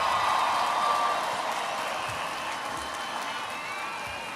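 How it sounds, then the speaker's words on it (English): Graduation audience at the Cypress Springs High School class of 2021 ceremony applauds in a dense, steady wash of clapping that starts loud and slowly tapers off. "Let's give them one more round of applause."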